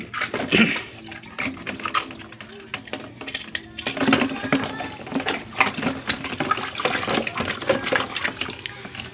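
Water drains out of a washing machine being repaired for a draining fault, in a gushing, sloshing rush, with irregular surges and occasional clatter from the machine, fairly loud and close.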